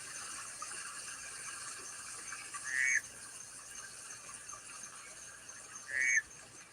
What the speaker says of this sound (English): was able to isolate and identify the chirp of the golden frog.